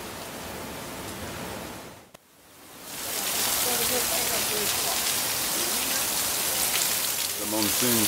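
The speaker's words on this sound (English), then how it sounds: "the monsoon starts" Heavy monsoon rain pours steadily in Africa, a dense broadband hiss that drops away briefly and then returns at full strength, with a few faint voices in the background.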